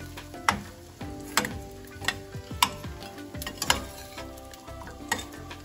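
Dry fruits roasting in a dry pan for ladoos, some whole and some in pieces, with repeated sharp clicks and taps of the pieces being stirred over a low, continuous rustle.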